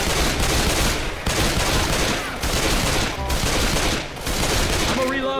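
Dense, loud bursts of pistol gunfire from the Left 4 Dead mod of Minecraft come in three or four long volleys with short gaps between them, close and continuous, with no voices over the shooting.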